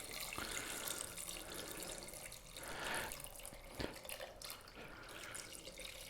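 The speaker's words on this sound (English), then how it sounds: "the next thing we need to do is add some water." Water poured into clear Ikea glass vases, a close trickling and splashing fill with a few sharp drips and clinks, steady and moderately quiet with no talk.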